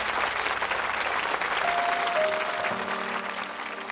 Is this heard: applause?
yes